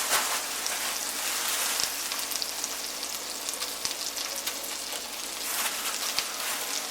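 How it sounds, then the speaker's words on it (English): Diced steak and kidney meat browning in a hot pan for a pie, a loud, dense, continuous sizzle with scattered crackles and pops, close and alone without speech. "we're going to chuck all our meat in, and we're just going to brown it for a couple of minutes"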